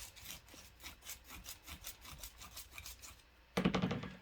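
Wire or toroid parts for a 50 watt amplifier get deburred by hand: quiet, rhythmic rasping strokes repeat close by, ending in a brief louder scrape.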